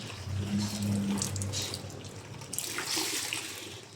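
Tap water runs steadily into a basin during hand-washing of laundry, a continuous close splashing wash with no talk.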